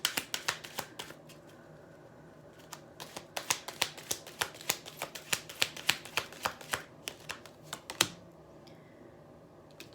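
Angel Answers oracle cards being shuffled, a quick run of crisp riffling snaps and flutters in an irregular rhythm, close and clear with no talking.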